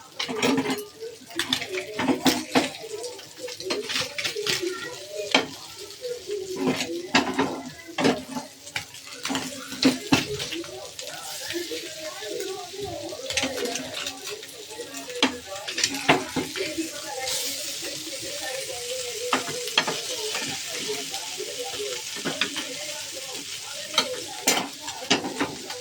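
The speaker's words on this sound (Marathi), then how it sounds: "खाली चिपकलंय, काढून उलटून टाकलं. थोड्या वेळाला भाजून" Fish frying in a pan at home, sizzling steadily while a utensil repeatedly scrapes and flips it, with sharp clinks and scrapes against the pan; a voice speaks faintly now and then.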